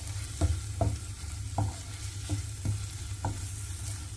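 A masala of chili powder and green chilies sautés in a pan for egg kothu bread, a soft low sizzle under a steady hum, punctuated by about six evenly spaced scraping spatula strokes.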